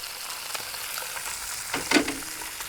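Fish frying in hot oil in a pan, a soft continuous sizzle with a brief louder spatter near the end, with no voices.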